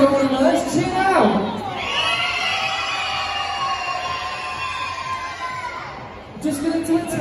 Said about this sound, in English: we're going to cheer for our favourite